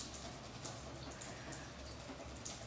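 A small pencil-type paintbrush is dipped and swished back and forth in water, giving faint, soft sloshing and dripping sounds at close range.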